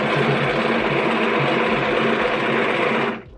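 A sewing machine stitching a quilt runs in one continuous fast, buzzing whir, loud and close, then stops abruptly.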